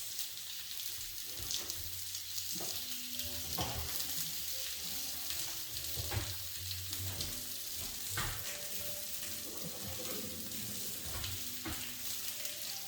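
Chicken breasts fry in a pan with a constant crackling sizzle, close up, broken by occasional clinks and scrapes of handling.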